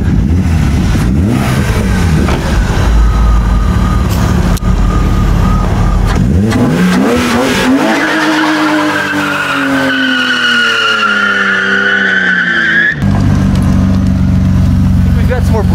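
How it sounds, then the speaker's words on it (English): A loud BMW M3 engine revs hard during a burnout while tires squeal and screech in a long, rising howl, then the engine drops back to a rough idle. "Let's check out the burnability on this girl."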